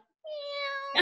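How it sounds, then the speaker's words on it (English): A single short cat meow, clear and close, rising out of silence and ending with a brief breathy noise. "Oh, that was my cat."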